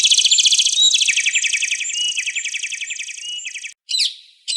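A small cartoon bird chirps in rapid, bright repeated trills for several seconds, loud and close, then pauses briefly before a final burst.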